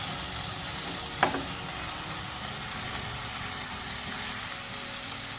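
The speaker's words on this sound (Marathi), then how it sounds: "आता याच्यामध्ये आपल्याला भिंडी घालायची ही भिंडी अशी टाकून द्यायची आपल्याला" Okra frying in hot oil, a steady, moderately loud sizzling hiss throughout, with one brief clack or splash near the start as the pieces go in, and no voices.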